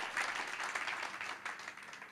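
Church congregation applauding during an Indonesian sermon, a soft, dense wash of many hands clapping that holds steady and then eases slightly, faint and somewhat distant.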